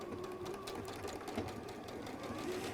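Sewing machine stitching a seam at a steady, moderate pace, a continuous fast mechanical chatter heard close but quietly throughout the short stretch.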